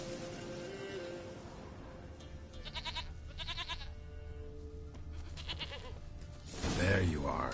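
A goat in the video game The Witcher 3: Wild Hunt bleats in a few short wavering calls over quiet game ambience, ending in a louder rustling burst.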